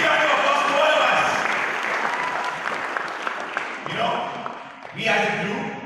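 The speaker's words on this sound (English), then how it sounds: "So big round of applause to all of us." Loud crowd applause fills a restaurant industry summit inauguration hall, steady clapping from many hands that dips briefly near the end and then swells again, with voices mixed in.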